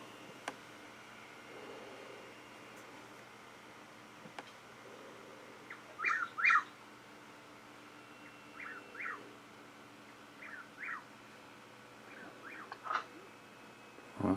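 A Chuck-will's-widow calls repeatedly at night, several short, rhythmic phrases coming in pairs from a moderate distance over a faint, steady background hiss.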